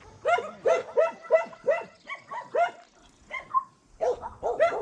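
Several dogs at an animal shelter with cat enclosures bark in close, loud, rapid volleys, mixed with yips, a brief gap, then more barking.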